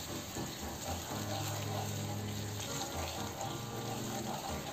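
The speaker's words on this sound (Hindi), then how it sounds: "इसमें पहले पानी और ऐड किया है" Water is poured into Manchurian gravy in a pan, making a steady close pouring and bubbling wash that runs continuously through the moment.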